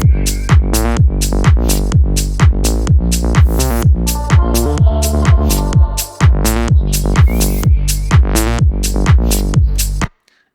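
A recreated drop of a house track pounds along with loud, evenly spaced kick-driven beats under a bright synth melody, the steady pattern pausing briefly midway before resuming and ending abruptly.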